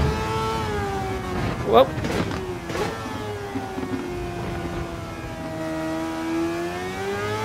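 Video game race car with a 787B rotary engine swapped into an RX-7 in Gran Turismo 7, a high sustained engine note slowly sweeping downward, with a man's brief exclamations over it.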